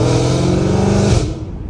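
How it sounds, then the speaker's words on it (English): A straight-piped Dodge Hellcat Redeye engine revs in short, gentle pulls while warming up, a loud, close, steady throaty drone that drops away near the end. "I'm doing little baby pulls because I want to warm up the engine a little bit more"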